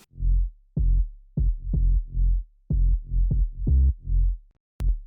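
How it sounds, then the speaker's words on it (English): Deep, booming 808 sub-bass notes from the Serum synth pulse in a syncopated pattern, each swelling and decaying, with short gaps of silence between them. "The heart of our track is in classic 808 sub, which sounds like this."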